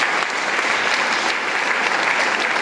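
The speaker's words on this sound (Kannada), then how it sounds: "ಜೋರಾಗಿ ಚಪ್ಪಾಳೆ" Loud, sustained applause from an audience in a hall, steady dense clapping with no pauses from start to finish.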